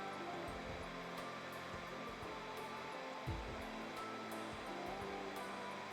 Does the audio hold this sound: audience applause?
no